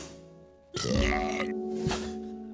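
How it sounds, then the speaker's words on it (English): A loud, long burp close to the microphone, a single guttural eructation stretching over more than a second with a brief second push at the end, over a faint background hum. "That was a good burp there."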